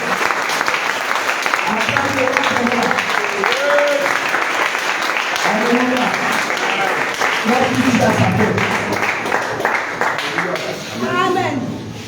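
A church congregation applauds and cheers in praise, continuous dense clapping mixed with shouts while a preacher's voice carries over it.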